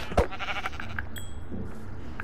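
A sheep in the video game Minecraft bleats once, sharp and close at the start, followed by quieter game ambience.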